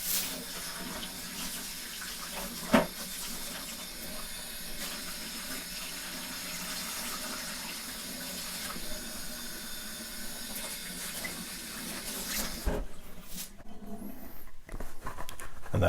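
A tap runs in a steady broadband hiss for a model dropship hull part about to be dunked in cold water, with a brief knock early on and handling noises after it stops near the end.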